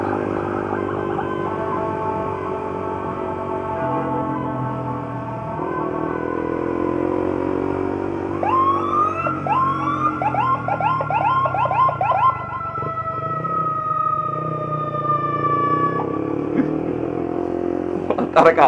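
A police siren wails nearby, rising and sweeping repeatedly over steady traffic rumble, with a voice speaking briefly near the end.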